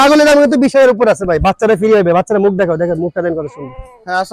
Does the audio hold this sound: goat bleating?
yes